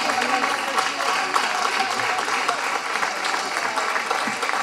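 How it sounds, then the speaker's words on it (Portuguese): Audience applause at the opening ceremony of a folklore festival in Barcelos, Portugal, a dense continuous clapping of a large crowd, steady and loud throughout. "Podem continuar com os aplausos."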